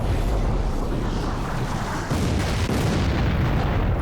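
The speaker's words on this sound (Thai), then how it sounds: "ระเบิดบุ้มบอม" A loud, rumbling explosion in the video game Resident Evil Dead Aim as a ship is lost, with a dense, roaring blast of noise that stays heavy and sustained throughout, without talk.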